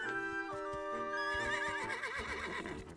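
A horse in Zelda: Echoes of Wisdom gives a clear, close whinny with a wavering rising-and-falling call, loud over a faint game background with soft hoof clip-clop.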